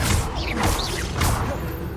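A Confringo explosive spell in the Hogwarts Legacy video game: loud, rumbling blasts with swooshing, whistling magical streaks sweeping over them, two close surges of sound in quick succession, with no speech.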